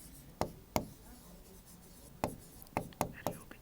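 Chalk tapping and scratching on a board in a civil engineering exam-prep class, a few sharp separate knocks with short quiet gaps and a tight cluster near the end, heard alone without speech.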